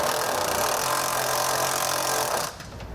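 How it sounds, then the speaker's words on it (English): A power drill boring into the metal frame of a 2020 Chevrolet, a steady loud whine for about two and a half seconds that stops abruptly, leaving faint background noise. "I'm going to use those to actually drill into"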